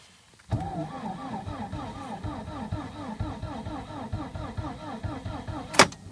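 A Lada Priora's starter cranks in minus 40 frost, churning in a steady, rhythmic labouring pattern for about five seconds without catching, then ends in a sharp click.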